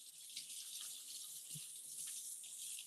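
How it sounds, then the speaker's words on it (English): Water runs steadily from a tap while hands are washed, making a soft continuous hiss that is faint and close. A small splash or clunk comes midway, and no one speaks. "So wash our hands."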